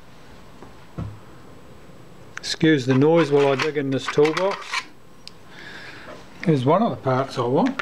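Rummaging through a toolbox full of small camera parts and tools while stripping down a Kodak Retina I type 010 camera, heard as brief rasping, rubbing clatter between stretches of someone talking nearby.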